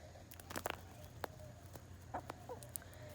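Backyard chickens cluck in short scattered bursts alongside light pecking and patter at moderate distance, with a quiet outdoor background and no speech.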